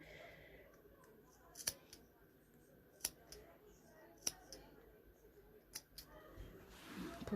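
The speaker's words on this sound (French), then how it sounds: "j'entaille bien sans aller couper ma couture" Scissors notching fabric while sewing a nursing abaya: a few crisp isolated snips spaced over several seconds, close but faint against a quiet room, with soft talking in the background.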